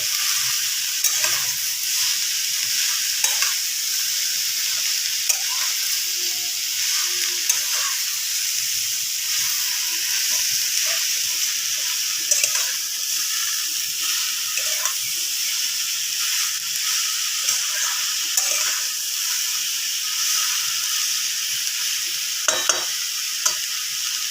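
Snake gourd curry with turmeric frying in a pan is stirred, giving a long, even sizzle with scattered light spatula scrapes and clicks throughout, close and moderately loud.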